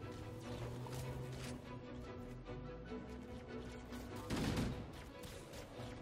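Sustained gunfire from the video game Halo: Combat Evolved Anniversary, a dense, continuous rattle of shots with a louder burst near the end, heard alone at moderate level.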